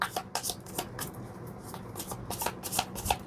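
A deck of tarot cards is shuffled by hand at close range, giving a steady run of crisp riffling and flicking bursts with no talk over it.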